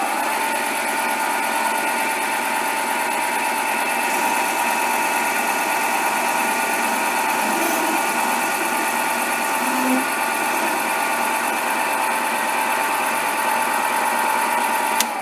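A mini lathe running at higher speed while taking a cut on a workpiece, a steady continuous motor whine and hum with faint cutting noise, even in loudness throughout with no talk.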